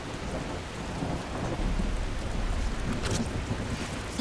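Steady rain and rolling thunder from the storm in the video game The Last Caretaker, a dense wash of rainfall with a deep rumble swelling midway and brief brighter crackles near the end, heard alone without talk.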